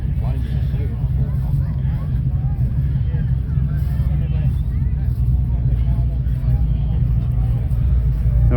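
Idling and passing engines fill a car meet at Woodside with hot rods on show, a steady loud low rumble beneath the murmur of a crowd talking nearby.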